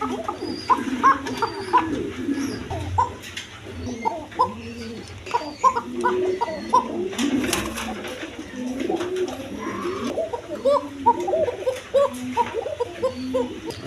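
Indian Bombay pigeons cooing in a loft, many overlapping rolling coos close by and fairly loud, steady throughout, with no talking.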